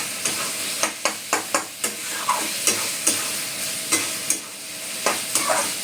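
Curry sautéing in a pan for dinner: a constant sizzle overlaid with regular, sharp scraping strokes of a spatula stirring, roughly two or three per second at first, then slower, close by with no talking.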